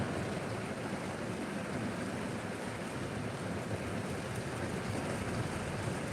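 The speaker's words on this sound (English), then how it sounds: "might as well watch it rain in the car" Dense, constant rain drumming on a car roof, a continuous even hiss with no voices.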